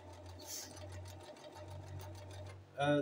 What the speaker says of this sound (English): I've already marked the buttonholes, so it's just a question now of sewing all of them.